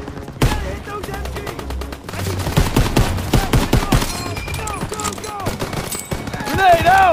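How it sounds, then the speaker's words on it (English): Machine gun fire in a World War II video game set in 1944 Normandy, with dense overlapping bursts and fusillades close and loud throughout, shouting voices mixed in and a rising whine near the end. "MG's in the barn! Shit! Everyone down! Gotta hit those MGs!"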